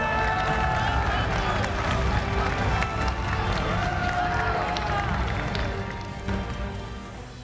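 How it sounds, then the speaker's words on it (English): Crowd noise from an esports tournament top 8 for Dragon Ball FighterZ, a dense steady roar of applause and cheering that holds loud throughout and tapers slightly at the end. "And in fourth, a big round of applause for Shanks!"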